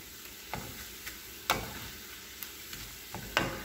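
Spinach and seasoning sizzle softly in a pan, with a quiet steady fry broken by several sharp clicks and taps of a utensil stirring.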